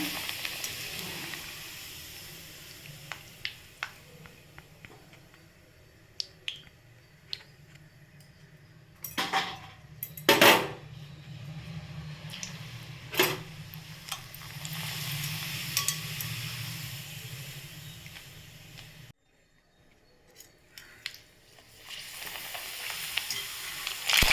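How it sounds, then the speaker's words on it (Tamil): Appalam papads fry in hot oil with a steady hiss and crackle, punctuated by sharp pan and utensil clatters near the middle, then a brief hush before the sizzling resumes. No one talks. "நம்ம ஒவ்வொரு அப்பளத்தையும் அப்படியே பொறிச்சு எடுத்துக்கலாம்"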